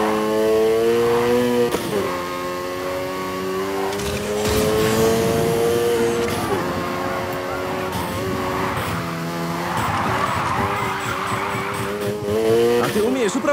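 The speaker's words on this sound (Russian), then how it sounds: "Попробуй удержать дрифт." Engine roar and drawn-out tire squeal from a car drifting in the racing game Need for Speed Heat, steady and loud throughout with repeated revs, while a voice talks over it.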